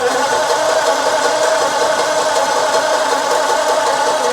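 Old 1947 car engine being cranked after its distributor points were sanded to restore spark, a steady loud mechanical drone holding evenly throughout with no voices.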